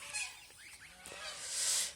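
Geese on a farm give a few faint, nasal honks at a distance, with a brief louder call near the end over a light background hiss.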